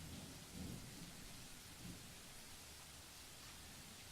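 Steady rain and low rumbling thunder in The Letter video game, a dark, rainy night scene; the downpour hisses continuously while two soft thunder swells roll in early on, with no talking.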